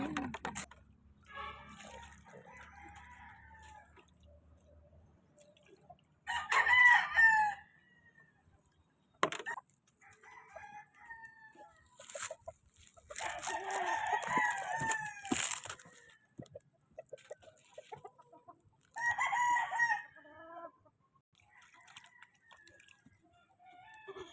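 Chickens cluck and a rooster crows in loud bursts, several crows spaced across the clip, with quieter clucking and scratching between them.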